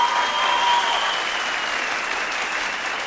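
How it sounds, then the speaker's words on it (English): Audience applause greeting a guest judge on a televised vocal competition show, an even, continuous wash of clapping at moderate level throughout. "Round of applause."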